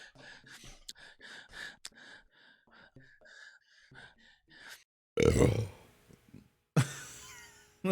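A loud, rough burp bursts out twice after a stretch of talking, each belch sudden and close, with speech filling the start of the clip.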